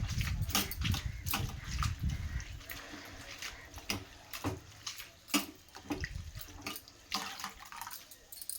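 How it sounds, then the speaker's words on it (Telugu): Drumstick leaves and red lentils being rinsed by hand in water, with sloshing and splashing in uneven bursts, close and fairly loud, alone without talk. "అందులోనే మునగాకు కూడా శుభ్రంగా కడిగి వేస్తున్నానండి"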